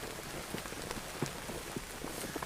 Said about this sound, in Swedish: Regnet bara vräker ner.